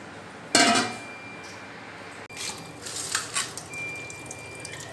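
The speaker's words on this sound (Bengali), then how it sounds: "মাছগুলো আমি ধুয়ে তুলে নিচ্ছি।" Hilsa fish being washed in a pot, with a sharp splash and clatter of fish against the vessel, then running water, drips and soft handling sounds close by.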